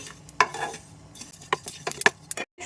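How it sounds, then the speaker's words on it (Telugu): Whole spices for an amla pickle are dry-roasted in a pan, with a few sharp crackles and pops and a light scrape of a stirring spoon at close range over a quiet background. "మంచిగా ఇవి రోస్ట్ చేసుకోవాలి."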